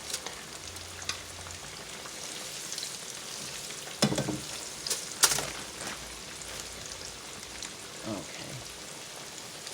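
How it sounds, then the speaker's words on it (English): Fish frying in hot oil gives a steady close crackling sizzle like light rain, with a few louder pops and utensil knocks, and brief quiet speech. "We're just gonna let that fry"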